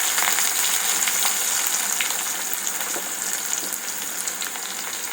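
Onion, cumin and pepper frying in a pan for a mochai kuzhambu, a dense close sizzle that hisses evenly throughout with faint crackles and no voices.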